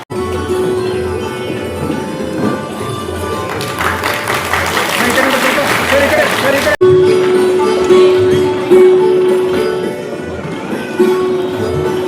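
Crowd applause rises for a few seconds amid a noisy hall with a steady hum, while a voice speaks over a loudspeaker at the launch event of a Kannada organisation in Belagavi.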